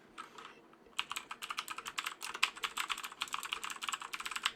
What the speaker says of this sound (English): Keyboard test going in 1, 2, 3.